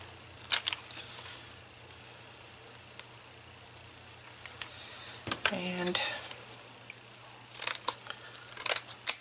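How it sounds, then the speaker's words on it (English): Scissors snip through paper while cutting out small house shapes of different sizes, giving scattered short crisp clicks and crunches, a few clustered near the end, with faint room noise between cuts. "going to cut them out of this and then I'll probably color them up"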